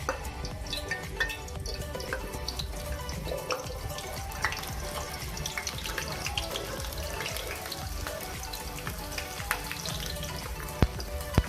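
Onion frying in oil in a pan for an egg omelette, a steady close crackling sizzle running throughout with scattered sharper pops and no talking.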